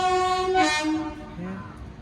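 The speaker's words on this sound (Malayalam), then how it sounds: "ഓ ട്രെയിൻ കേട്ടോ ഗായ്സ് ട്രെയിൻ പോകുന്നുണ്ടോ" A train sounds a long, steady horn blast with rich tones, fading slightly as it continues, with faint rumbling underneath.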